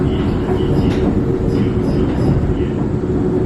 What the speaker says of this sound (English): this is like a floating train and it's just going through the city